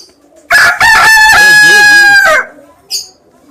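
A rooster crows once, loud and close, a long harmonic call rising and holding before trailing off, followed by a brief faint cluck.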